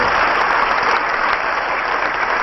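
Dense, steady audience applause fills a hall at a lawyers conference, loud and continuous throughout with no gaps or talking.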